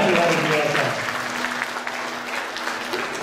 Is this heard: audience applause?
yes